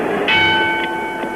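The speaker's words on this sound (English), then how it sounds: "The bell for the start of round 5." Ringing bell marks the start of a round in a professional boxing match at the San Diego Sports Arena, a sustained metallic tone with a couple of faint repeated strikes over arena ambience.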